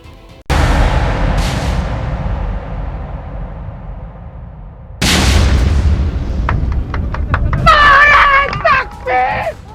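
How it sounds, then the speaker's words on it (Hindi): A loud explosion booms and rumbles, followed by a second blast with a long decaying roar, then crowd noise and shouting voices rise near the end. "धमाका होता है, धुआं उठता है"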